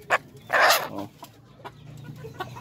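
A native Darag chicken, raised as a future breeder, gives short close clucks, one sharp note then a louder throaty burst, followed by softer scattered clucking sounds against low barnyard background noise.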